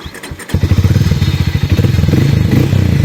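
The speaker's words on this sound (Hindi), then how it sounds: "तो गाड़ी कुछ इस प्रकार से स्टार्ट हो जाती है।" A Harley-Davidson X440 motorcycle engine cranks briefly, then catches and settles into a loud, steady, thumping idle close by.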